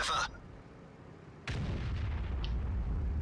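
Two sharp cannon blasts from a Jagdtiger 8.8 tank destroyer in World of Tanks, the second followed by a long rumbling tail and faint rattling.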